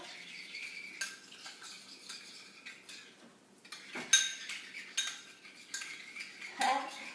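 Buffalo chicken bite ingredients mixed in a bowl with a utensil: repeated scraping, clinking and stirring strokes, close and moderately loud, with sharper clanks near the end and no talking.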